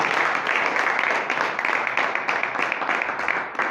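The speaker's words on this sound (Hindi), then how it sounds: "ताली होनी चाहिए इस प्रोडक्ट के लिए।" Audience applause for an organic farming product, a dense, steady burst of many hands clapping at close range, with no talk over it.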